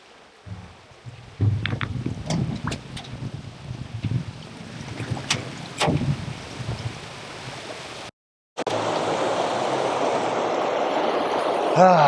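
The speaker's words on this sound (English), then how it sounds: "Feels so good to be out of the city and hear the sound of the water" Moving water and wind rush steadily in the South Korean countryside, with scattered knocks and splashes early, then a brief cut before a louder, continuous wash of water and wind.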